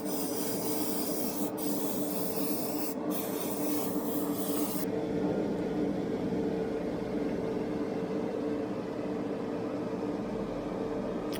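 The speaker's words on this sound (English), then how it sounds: "I just got a load of Johnson's floor polish and I just quickly stick down the airbrush" An airbrush sprays Johnson's floor polish as a clear coat, a steady close hiss with a low hum beneath it; two brief bursts early on, then the high hiss drops away about halfway while the hum continues.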